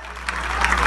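A church congregation bursts into applause during a service, a brief loud wash of many hands clapping with a low steady hum underneath and faint voices mixed in.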